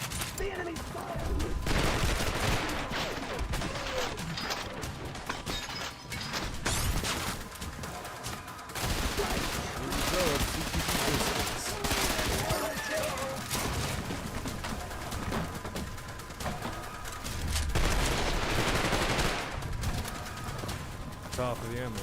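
Enemy gunfire in Insurgency: Sandstorm, a dense, continuous crackle of rifle shots in the background, with people talking over it.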